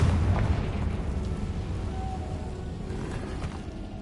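A Confringo blasting spell explodes in Hogwarts Legacy: a deep, rumbling boom that hits loudest at the start, then rolls on as a sustained low roar with faint crackles. There is no talking.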